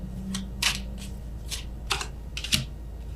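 Tarot cards drawn from a deck during a reading, several short crisp snaps and flicks of card stock close up at uneven intervals over a low steady background hum, with no talking.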